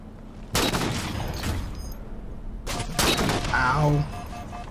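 Sniper rifle fire in the video game Halo 4: a few sharp, loud cracks spread across the stretch, with shorter bursts and game effects between them.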